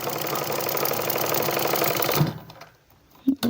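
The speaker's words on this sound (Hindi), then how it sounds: "यहाँ से इस पर सिलाई लगाना शुरू करेंगे और एक सीधी सिलाई लगा देंगे" A sewing machine runs a straight stitch along a women's shirt pocket with a fast, steady mechanical whir for about two seconds, then stops, followed by a few sharp clicks and handling sounds.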